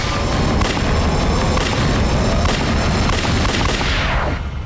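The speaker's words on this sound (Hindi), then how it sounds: "Open fire." Gunfire in a Hindi TV crime drama: a loud, dense barrage of booming shots fills the whole stretch without pause, then trails off abruptly at the end.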